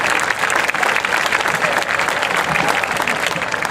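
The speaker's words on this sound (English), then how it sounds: "Let's give another round of applause to our cheerleading and football coaches of the year." A crowd at a youth football league opening ceremony claps for the cheerleading and football coaches of the year, steady, full applause throughout.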